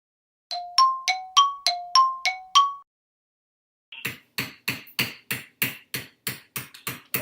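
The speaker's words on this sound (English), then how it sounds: "what a beautiful factory we have here" Metal clanging and hammering in a factory: a run of six sharp ringing clangs, then after a short pause a faster series of about a dozen hard, evenly spaced hammer strikes, moderately loud and close.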